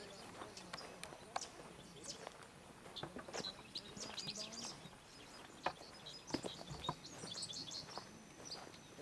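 Wild birds chirp and sing around a prairie farm in Harrison, Arkansas, with scattered faint calls and trills at a distance, soft footsteps and light outdoor ambience underneath.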